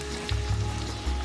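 Chopped onions sizzle as they fry in hot oil on a kitchen stove during a cooking show, a steady close crackle and hiss with a couple of brief low thumps.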